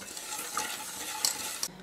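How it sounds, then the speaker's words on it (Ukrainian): Stirring eggs and sugar in a pot, a spoon scraping and swishing steadily, close and fairly loud, with a couple of brief clinks, no voices. "В каструлю всипаю цукор яйця та добре розмішую"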